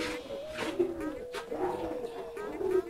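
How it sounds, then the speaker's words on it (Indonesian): A flock of around twenty domestic pigeons at a village bird seller cooing repeatedly in soft, low, throaty calls nearby, while people talk over them. "Ini burungnya banyak banget nih"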